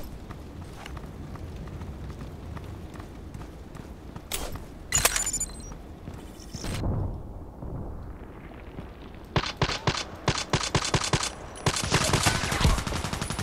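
Gunfire in a sniper video game: irregular bursts of sharp shots and rapid clattering volleys separated by quieter gaps, fairly close, with a dense flurry near the end.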